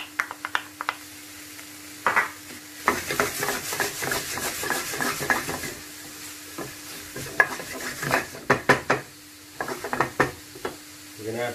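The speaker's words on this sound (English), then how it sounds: "We're going to add the ginger and garlic paste." Ginger and garlic paste sizzling in a pan while being stirred for a home-style king prawn jalfrezi, with crackling frying and irregular scraping and knocking of a spoon against the pan, loud and close.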